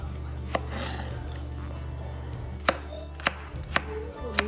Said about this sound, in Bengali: শসাটা কেটে নিলাম গাজরটা কেটে নিয়েছি ছোট ছোট কিউব করে